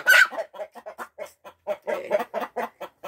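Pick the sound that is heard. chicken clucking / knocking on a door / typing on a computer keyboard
chicken clucking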